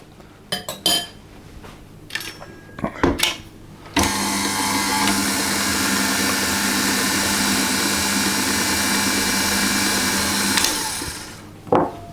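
Electric whisk beating a cheesecake mixture with yogurt in a bowl, a steady loud whirring drone of about six seconds after a few clinks and knocks, then cutting off.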